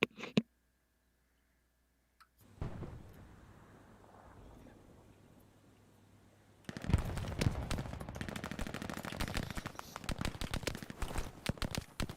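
Gunfire in a tank-and-infantry video game battle: after a quiet stretch with low rumble, rapid bursts of machine-gun fire break out and continue densely, loud and close, with faint voices in the background.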